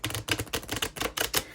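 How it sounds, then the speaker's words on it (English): A deck of Threads of Fate playing cards being shuffled by hand, a run of quick crisp riffling bursts repeating in an uneven rhythm, close and fairly loud with no voices. "These cards really like each other and they're hard to shuffle."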